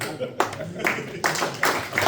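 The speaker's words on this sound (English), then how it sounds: "if we could put a round of applause for everyone in this room tonight" An audience at a tech launch event claps in uneven bursts, fairly close and lively, with a murmur of voices mixed in.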